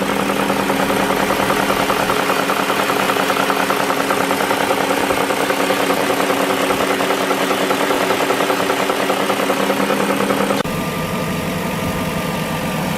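BMW E38 engine with a worn timing chain runs steadily, a close, loud idle with a busy mechanical rattle and clatter over the drone, shifting to a quieter tone near the end.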